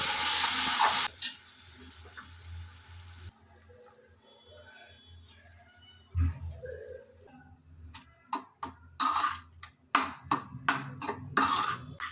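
Cumin seeds added last to a tempering pan, crackling and sizzling in short bursts that rise after a quieter stretch, with steady frying hiss and occasional stirring close by.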